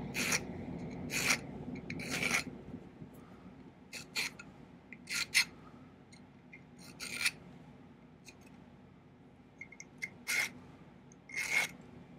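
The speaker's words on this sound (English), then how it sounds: "take my hand file and do some serious hand filing to shape it" Rhythmic rasping strokes of a hand file shaping a silver cocktail ring, in short bursts separated by pauses, close and fairly quiet with no talking.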